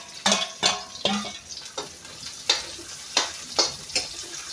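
Garlic and onion sauté in a pan, a soft sizzle beneath repeated sharp scrapes and clinks of a metal utensil stirring against the pan at an uneven rhythm, close up.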